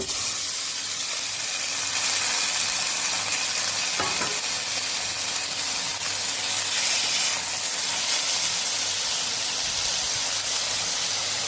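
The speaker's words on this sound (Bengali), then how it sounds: "তেল গরম হয়ে গেছে, আমার ইঁচড় আর আলুটা আগে ভেজে নেবো একটু" Young jackfruit and potato pieces fry in hot oil in a pan, giving a steady close sizzle and hiss with occasional stirring scrapes, no voices.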